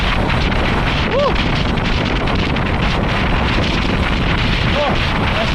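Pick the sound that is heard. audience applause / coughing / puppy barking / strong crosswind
strong crosswind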